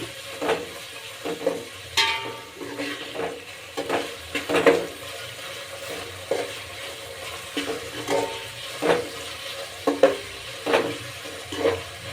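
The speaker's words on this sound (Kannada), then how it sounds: "ಅದನ್ನು ಸ್ವಲ್ಪ ಫ್ರೈ ಆಗೋವರೆಗೂ ಸ್ವಲ್ಪ ತಿರ್ಸ್ಕೊಳ್ಳಿ" A spoon stirs tomatoes frying in a pan for a North Karnataka mandakki dish. Soft sizzling runs underneath, broken by repeated scraping strokes at an uneven rhythm, close and moderately loud, with no talking.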